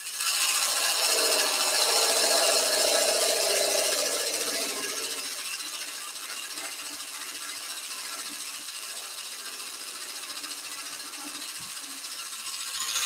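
A Woodcut Pro-Forme hollowing tool carves the inside of a turned wooden piece, giving a steady, close scraping rasp that is loudest at first, then settles into a softer, even cut.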